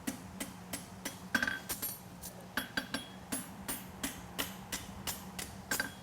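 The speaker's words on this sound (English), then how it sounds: "And I'm pulling my hammer down" Regular ringing hammer blows forging a horseshoe on an anvil, evenly spaced and close, with a brief burst of faster strikes partway through.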